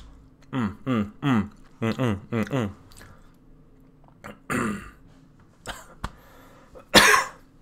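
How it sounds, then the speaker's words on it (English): A person coughs repeatedly and close to the microphone, with several bursts of harsh coughs in quick clusters, then quieter throat noises and a final strong cough. "I'm coughing all day."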